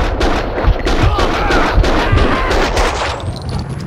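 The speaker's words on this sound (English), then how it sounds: "Someone must have heard the gunfire." Gunfire in the Max Payne 2 video game: a rapid burst of loud, close shots and heavy impacts cracking in quick succession, with a rising whine near the end.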